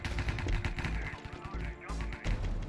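Rapid bursts of gunfire in the Minecraft Cops and Crims game mode, dense crackling shots and impacts layered over game noise, loud and busy throughout.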